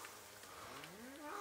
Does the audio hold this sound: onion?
no